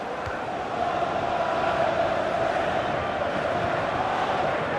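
A large stadium crowd of football fans in a FIFA 15 match keeps up a steady, dense roar of cheering and chanting at moderate volume, a continuous wash of voices with no clear peaks.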